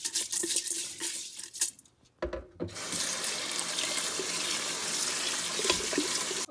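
Rice is rinsed in a pot under running tap water for minced pork congee, giving a steady close splashing rush with a few clinks of the pot, briefly pausing before the water flow resumes.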